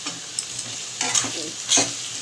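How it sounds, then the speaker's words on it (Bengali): Potato pieces go into onions frying in hot oil and are stirred with a spatula: a steady close sizzle with a few sharp scraping bursts as the mixture is moved around the pan. "ওর মধ্যে আলুগুলো দিয়ে দিলাম।"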